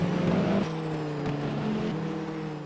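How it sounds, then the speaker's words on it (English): Racing car engines in the rFactor racing video game drone in steady tones that shift pitch as they change gear, loud and continuous with no talking. "All the engines just sound like they're totally dejected or something."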